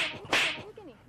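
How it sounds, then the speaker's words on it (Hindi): A sharp, loud smack of a slap or a shoe striking someone's head cracks once, quick and close, in a comedy sketch, and a faint voice murmurs just after it. "पागलों की तरह सर पे जूती मारी जा रही"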